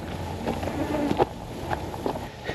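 Wasps buzzing around an overgrown mountain trail on a long bushwalk near Townsville, a steady insect drone with passing louder buzzes close by, alone without talk.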